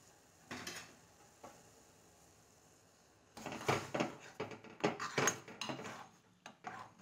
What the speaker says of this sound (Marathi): छान आता पाण्याला उकळी येत आहे।